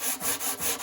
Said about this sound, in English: And I also have a little gouge here, which we're gonna fix with a sanding block like this